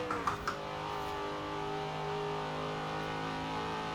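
A vintage American muscle car's engine in the Forza Horizon 4 racing game, revving and holding a steady high drone with strong harmonic whine after a few brief clicks at the start.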